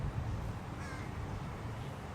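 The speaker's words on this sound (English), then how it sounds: "This crow was yelling at the other crow" A crow caws once at another crow outdoors in a garden, a single short call that is fairly distant and sits over steady low background rumble, with no talking.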